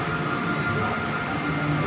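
The Jaya Kusuma passenger train sits at a station with a steady, low, continuous rumble and hum, with no voices.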